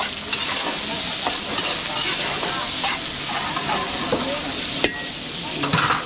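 Garlic and onion sauté in a pan, a steady loud hiss and sizzle with faint stirring scrapes, continuous and close throughout.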